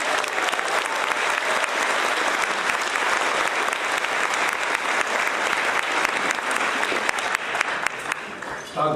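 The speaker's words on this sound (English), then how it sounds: "Let's give a warm round of applause to our home team," A large crowd at a ballpark event honoring the Arizona Diamondbacks home team applauds in a steady, dense wash of clapping that holds evenly for the full length, with no voices standing out.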